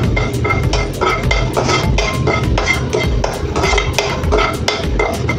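A pan is set on the stove and coriander seeds are tossed and stirred in it to roast, giving repeated sharp metallic clinks and scrapes in a quick, uneven rhythm over a low kitchen hum.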